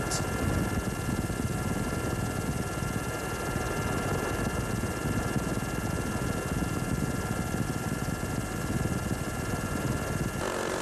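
A loud, continuous helicopter drone with steady rotor thrum and engine whine, close and unbroken throughout, over the 1985 Baja 1000 race, with no one talking.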